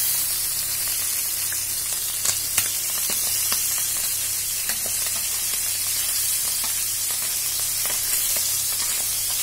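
Tangra catfish frying in hot oil with a steady, close sizzle and occasional sharp pops and crackles throughout.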